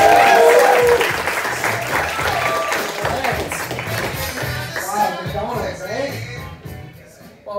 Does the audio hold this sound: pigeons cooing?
no